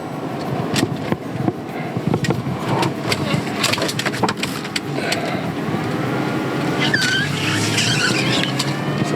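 A car drives on a road near roundabouts in The Villages and swings through a U-turn, a steady close road and engine rumble with scattered clicks and a brief tyre squeal.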